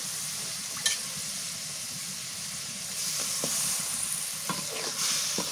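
Shing fish frying in cooked-down masala in a pan, a quiet steady sizzle with a few light clicks of a utensil, growing slightly fuller toward the end.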